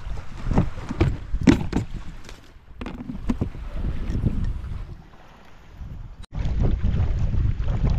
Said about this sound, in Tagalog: Medyo nakakulog, active lahat bago malakas po ang hangin.